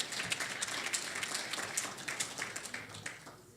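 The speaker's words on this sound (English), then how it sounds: "So give that a nice round of applause." Applause from the audience at a chamber of commerce centennial awards gala, a fairly quiet patter of scattered clapping that swells and fades unevenly over a few seconds.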